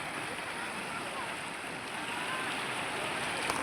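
A river swollen by monsoon flooding rushes past in a steady, dense roar of water that stays unbroken from start to finish.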